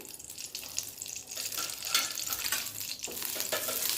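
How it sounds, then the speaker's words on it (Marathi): Green chillies roast in oil in a pan over medium-low gas for Kolhapuri thecha, giving a steady close sizzle with crackles and occasional stirring scrapes, no voices present. "मिडियम टू लो गॅसवर ह्या मिरच्या भाजून घ्यायच्या आहेत"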